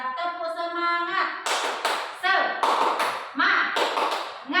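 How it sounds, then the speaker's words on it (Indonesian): Students in a classroom perform a rhythmic spirit clap, sharp bursts of hand claps in a patterned sequence alternating with a teacher's voice and chanted words. "tepuk semangat dulu biar tambah semangat ya"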